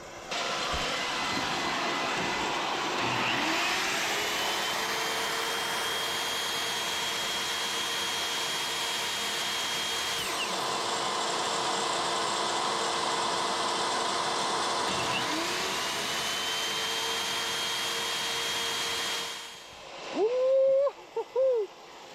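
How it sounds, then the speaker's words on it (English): A chop saw runs off a portable power station, its motor whining steadily and loudly for nearly twenty seconds before spinning down, with brief bumps and clatter at the end. "Let's go ahead and get that chop saw rolling."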